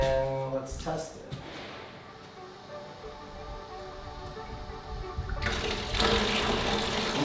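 Water sprays steadily in a constant hiss and grows louder and fuller toward the end, with a voice heard briefly near the start.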